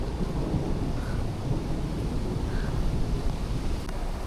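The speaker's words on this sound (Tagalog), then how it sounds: "Napakalakas ng kulog guys." Loud, continuous thunder rumbles through a storm with wind buffeting the microphone, heard by a rider out on a Honda Giorno 125 scooter in BGC; the deep roar stays steady and close throughout.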